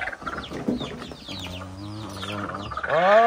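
Ducks call and cluck in a busy overlapping chorus, with a long droning honk through the middle and a louder squawk at the end.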